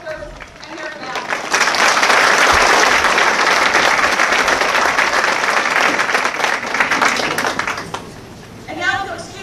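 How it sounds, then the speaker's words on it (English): A crowd at a Marine Corps recruit graduation at Parris Island applauds recruiters, drill instructors and their families. The dense, loud clapping swells quickly, holds for several seconds, then fades as a voice starts to speak near the end. "Ladies and gentlemen, please, a round of applause for our recruiters, our drill instructors, and their families."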